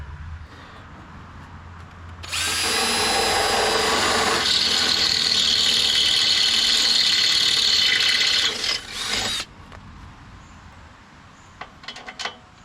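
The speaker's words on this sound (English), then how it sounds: "looks like the bolt holes on the frame are not big enough, so I'm gonna have to drill those out real quick" A power drill bores out bolt holes in the frame of a Lesco Viper 54-inch zero-turn mower fitted with a Briggs engine: a loud, steady grinding whine runs for about seven seconds, then cuts off, followed by a few faint clicks.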